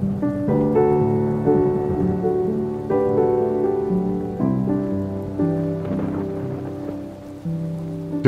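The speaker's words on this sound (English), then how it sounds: "There is a therapeutic power in a soothing summer rain." Steady summer rain hisses softly beneath prominent melodic music, a gentle continuous wash with no voices throughout.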